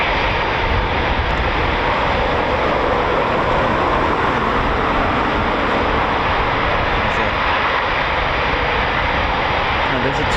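A Eurofighter Typhoon FGR4 jet flies near RAF Coningsby. Its loud, steady broadband roar fills the whole stretch without a break.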